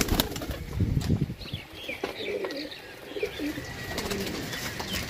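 A flock of pigeons fills a loft with steady, layered cooing and bursts of wing flapping, close and continuous, with no speech over it.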